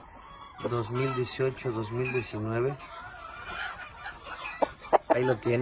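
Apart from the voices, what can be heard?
rooster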